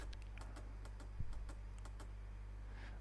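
Faint, quick keystrokes on a computer keyboard tap out in short irregular bursts against a low steady hum, with no talking.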